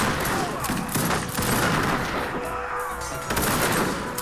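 Bursts of musket fire and artillery booms crackle in a pitched battle in Age of Empires 3, with repeated volleys in a dense, steady clatter and no voices over it.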